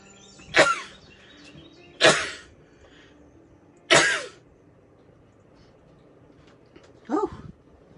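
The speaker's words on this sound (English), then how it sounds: "I'm going to sneeze, excuse me." Three sharp sneezes come in quick succession, each a loud close burst roughly 1.5 to 2 seconds apart, followed by a softer exhale or sniff in a quiet room.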